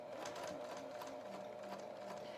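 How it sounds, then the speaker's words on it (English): Sewing machine basting two fabric pieces of a face mask together on a long stitch, a steady continuous mechanical hum with rapid needle clatter, close but faint. "What I'm going to do at this stage is I'm going to baste these 2 together."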